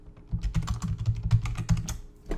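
Rapid keystrokes clatter on a computer keyboard as a short phrase is typed out, an irregular run of close, crisp clicks with no talking.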